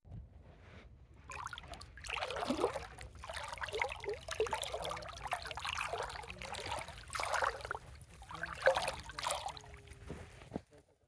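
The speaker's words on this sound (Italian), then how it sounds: "Rimango incantato, non riesco a smettere di muovere le mani nell'acqua." Hands swish and stir through seawater beside a kayak in Ha Long Bay, Vietnam, with repeated close splashing and trickling strokes that rise and fall in uneven bursts and no talking.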